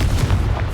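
Confringo blasting spell explosion in Hogwarts Legacy, a loud, dense low-end boom sustained through the short moment with no pause or talk.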